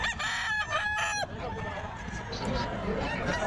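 Roosters crow sharply at the start of the clip at a market selling birds, followed by a busy crowd of other fowl and low general commotion.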